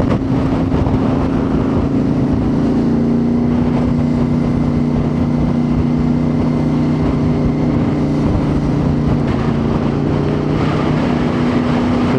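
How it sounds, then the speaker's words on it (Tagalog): Strong wind roars into the microphone on a viaduct while a motorcycle travels slowly on the road to Baguio after heavy rain, a loud constant rush over a steady engine hum throughout. "Ang lakas ng hangin dito sa may viaduct."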